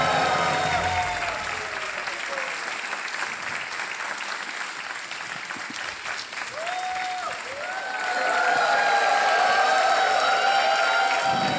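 Studio audience applause on an Indian TV quiz game show, a sustained dense round of clapping that swells louder in the second half, with some cheering and bright tonal music running underneath.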